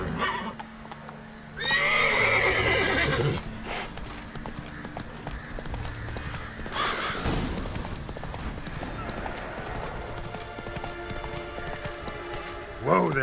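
A horse gallops with rapid clip-clop hoofbeats and gives a loud whinny in The Witcher 3 video game, with game ambience continuing beneath the hooves.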